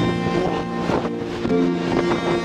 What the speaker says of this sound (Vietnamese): Wow, gió nó thổi muốn bay người luôn.